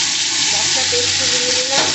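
Spices sizzling in a pan for dhokar dalna, a loud, close, continuous crackling fry with a faint tonal whine running through the middle, without any talking.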